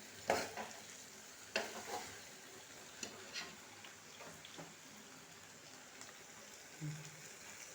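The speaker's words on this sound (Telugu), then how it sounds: "మంచిగా నూనెలో గోలిపోయినాయండి వంకాయలు ఆలు" Eggplant and potato pieces fry quietly in oil, a faint soft sizzle broken by a few sharp clinks of a spoon stirring against the pan.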